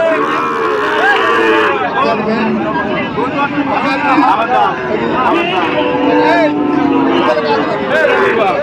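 Several Sahiwal cattle moo repeatedly at close range at a cattle market while people talk and chatter around them in a busy crowd.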